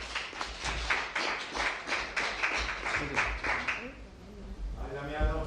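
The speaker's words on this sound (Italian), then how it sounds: "Accogliamolo con un applauso, Damiano" Applause from a gathered audience welcoming Damiano, a guest who supplied eggs for hatching chicks, dense and steady for several seconds before a voice starts speaking over the fading claps.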